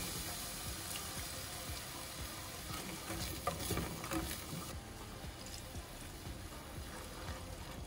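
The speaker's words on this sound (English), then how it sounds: "Wanna get all those clumps cooked down. That's why we're using a whisk." Room-temperature milk sauce cooks in a pan while a whisk stirs it, a soft steady bubbling hiss with faint scraping strokes, quiet and close.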